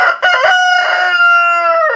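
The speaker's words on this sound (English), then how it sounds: "We got these laying hens right here that we picked up from a company, a farmer, a small farmer in Asheville" A laying hen from a small farm near Asheville lets out a loud, close crowing call with a few clucks at the start, sustained and tonal for about two seconds with no talk.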